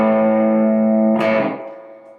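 Distorted guitar chord through a Keeley Nobel Screamer in soft clipping mode, a warm sustained overdriven ring with a short scratchy strum midway before it decays.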